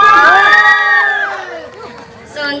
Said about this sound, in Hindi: तो बेबी गर्ल जिसको जिसको चाहिए वो एक बार जोरदार तालियां बजा दे।